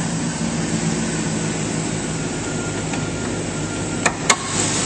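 Engine of a 2007 Chevrolet Avalanche LTZ 4WD idling smoothly with the hood open: a steady, even drone throughout, with two brief clicks near the end and no talking.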